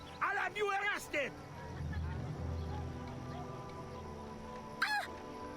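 A chicken clucks in Assassin's Creed 3 Liberation, sharp warbling squawks in short bursts at the start and again near the end, over a low steady game ambience.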